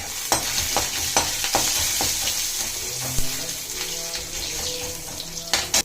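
Mustard seeds and ginger sizzling in hot ghee for thalitha idli, with repeated sharp popping crackles and spoon scrapes over a steady hiss, close and fairly loud, without speech.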